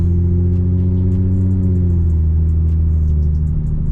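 An 800hp N54 turbocharged BMW 335i drives along with a loud, steady low engine drone heard from inside the cabin, its pitch easing slightly partway through, with faint high clicks above.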